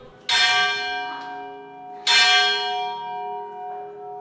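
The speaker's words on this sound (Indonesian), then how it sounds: "Ibadat kebaktian biasanya diawali dengan bunyi lonceng gereja." Two loud strikes of a church bell signaling the start of a service, each ringing out and slowly decaying with a rich, lingering hum, the second about two seconds after the first.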